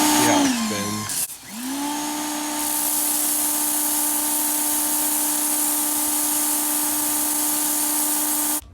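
A pressure washer with a spinning zero-degree nozzle sprays a driveway in a steady, loud hissing whine after a short burst of clattering start-up noise, stopping abruptly at the end.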